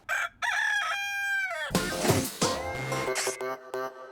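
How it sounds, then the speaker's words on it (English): A Polish rooster crows at a chicken coop, its harmonic call rising, holding and falling. A loud, strained cock-a-doodle-doo follows, with short clucking notes toward the end. "So Dude is a Polish rooster"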